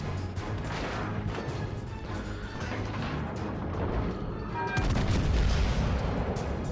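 Warship guns booming during a naval battle in World of Warships: Legends, a dense run of rumbling blasts and crashes that swells louder and heavier near the end, with no talking.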